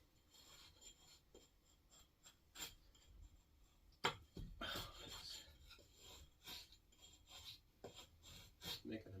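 A small, thick-bladed vintage Collins Boys axe shaves a piece of wood outdoors in the woods, making close, rasping scrapes in irregular short strokes with sharp cracks and bursts, a louder stroke around the middle, and no talking.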